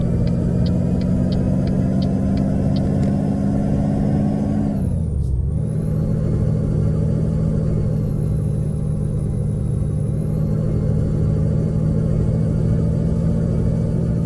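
Steady, loud truck engine drone in Euro Truck Simulator 2, continuous and close, dipping briefly in pitch midway as if shifting gear, then resuming its even rumble.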